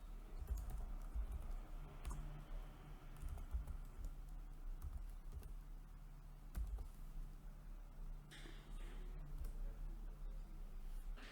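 Typing on a computer keyboard at a Linux terminal, quiet irregular clicks and short bursts of keystrokes, fairly close but faint, with no voices.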